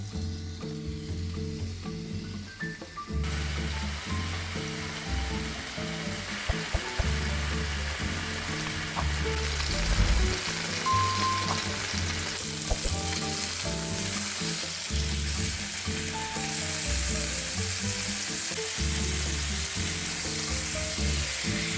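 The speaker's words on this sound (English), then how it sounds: "Sear the meat on all sides until golden brown." Pork tenderloin sears in hot vegetable oil in a pan, a loud, steady sizzle and crackle up close that carries on without a break, with no voices.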